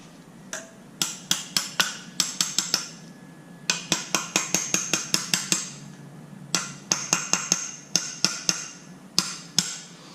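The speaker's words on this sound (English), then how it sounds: "hammer it back in." Sharp metallic hammer strikes ring out in quick clusters of several blows as brake pads are driven into a 6-piston Brembo caliper, loud and close, with short pauses between the runs.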